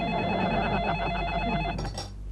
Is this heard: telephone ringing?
yes